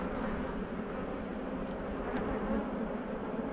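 Honey bees buzz steadily on a hive frame during an inspection of a calm colony, a dense, continuous hum held at an even level throughout with no talking.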